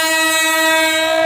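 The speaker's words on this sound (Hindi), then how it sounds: "मालगाड़ी जाते हुए" A slow-moving freight train near Boisar, India sounds a loud, steady horn that holds unbroken for the whole moment, close by, with no talking.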